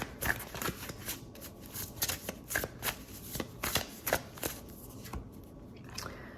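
Tarot cards are shuffled by hand in quick, irregular bursts of riffling and slapping, close and fairly quiet, going on throughout with no talk.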